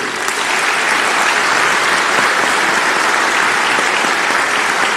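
Steady, dense crowd applause fills the hall at a political meeting, loud and continuous throughout with no voices rising above it.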